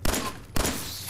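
A gunshot in Fallout 4, sounding as two loud, close reports about half a second apart, each trailing off into a short echoing tail.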